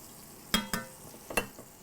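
Food browning in a frying pan, with a few sharp crackling pops of sizzle and spatter over a faint steady background hiss, close and fairly quiet.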